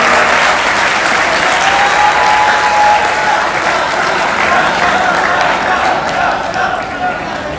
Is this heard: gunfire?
no